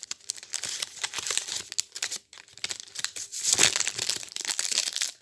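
Small coloured paper envelopes are handled, giving crisp crinkling and rustling bursts close to the mic, with a short pause midway and a louder crumple afterwards.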